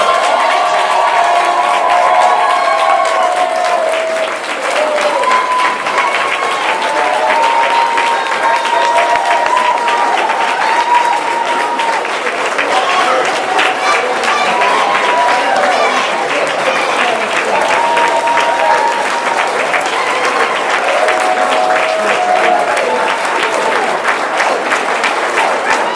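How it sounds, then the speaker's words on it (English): Graduation audience at an 8th year Montessori school ceremony gives the standing graduates long, loud, sustained applause, dense clapping from a large crowd with scattered cheers and whistles running throughout. "Give them a round of applause."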